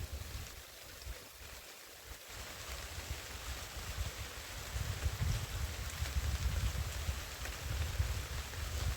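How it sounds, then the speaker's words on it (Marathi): Steady, dense hiss of heavy monsoon rain pouring down in Dapoli, Ratnagiri, with a low rumble that swells louder toward the end; no voices. "एकदम मोठा पाऊस आलाय."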